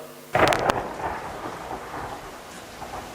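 Theatrical thunder-and-rain effect for a Marathi stage drama: a sudden sharp thunder crack followed by a rolling rumble and a steady hiss of rain that fades gradually.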